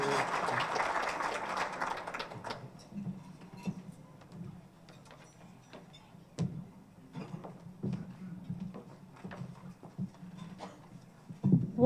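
Scattered applause from a small audience, loud at first and thinning into sparse, irregular claps.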